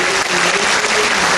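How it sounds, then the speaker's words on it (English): Dense applause from families at an elementary school graduation, a continuous, close wash of clapping throughout the brief moment. "Let's give these boys and girls a round of applause."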